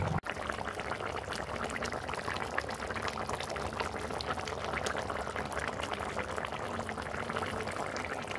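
Chicken stew with whole onion and ginger paste boiling in a pot, a loud continuous bubbling roar that holds steady from start to finish, no talk.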